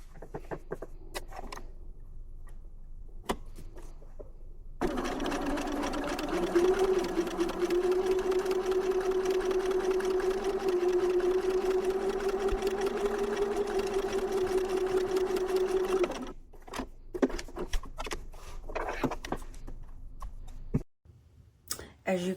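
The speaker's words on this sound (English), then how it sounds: "I have now sewn the first square on the left-hand side of the block." A sewing machine runs steadily for about eleven seconds, stitching a seam on a flying geese quilt block, with a continuous motor whir and needle hum, bracketed by quieter handling clicks before and after.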